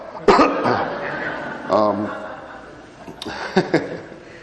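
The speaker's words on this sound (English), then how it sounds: "Man, I still got a cough." A person coughs a few times, harsh and close, with short throaty bursts spread across a few seconds.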